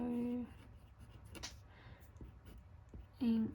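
Soft scratching of a fine-nib Lamy Safari fountain pen writing yellow ink on paper, faint short strokes with tonal hums at the start and end.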